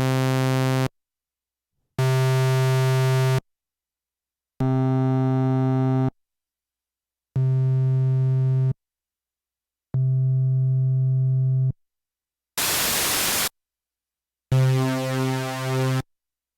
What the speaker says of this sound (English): there's different types of waveforms, such as sawtooth, pulse width, square, noise, and supersaw